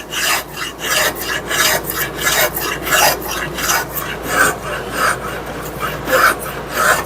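A steel spokeshave shaves and rasps along a wooden axe handle in steady back-and-forth strokes, close and loud, each pass a scratchy rub repeating roughly every half second with no talking.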